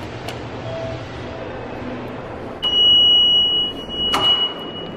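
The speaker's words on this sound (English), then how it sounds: "Please push buzzer." A door buzzer is pushed at an Amtrak Acela station lounge, giving one sustained electronic tone of about one and a half seconds, framed by a few sharp clicks over a low ambient rumble.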